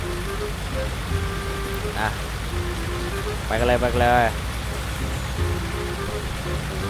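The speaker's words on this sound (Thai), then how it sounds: "ฝนดังยิบหาย ฝนโคตรดังนะครับ" Heavy rain pours steadily beside a CAT 323GC excavator, a loud constant hiss under someone speaking Thai, with a tonal engine whine rising briefly in the middle.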